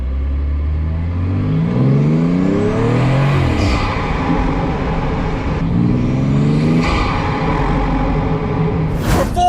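A BMW M240i engine revs up repeatedly through a carbon induction kit, its pitch climbing through the gears with a throaty intake roar, loud and close.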